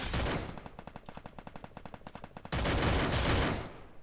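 Rapid automatic gunfire in the Free Fire shooting game crackles in a fast, even burst of shots, then gives way to a loud, dense roar of sustained firing that fades at the end.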